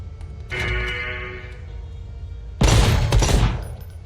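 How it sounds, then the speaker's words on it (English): Gunfire at a shooting range in Necromunda: Hired Gun, heard as a sustained burst of rapid shots with a mechanical whine, then a pause with low background hum, then a second, louder and denser volley lasting about a second. "there is actually a shooting range where you can test your gun"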